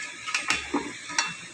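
Pinakbet vegetables being stirred in a cooking pot, a few soft scraping and clinking strokes at an uneven pace over a low background, close by with no talk.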